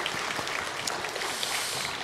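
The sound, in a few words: church congregation applause for musicians and choir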